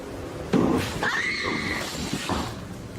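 A woman screams inside an air shaft. A dull thump comes first, then a single piercing, wavering cry that holds for close to a second amid a noisy, echoing background.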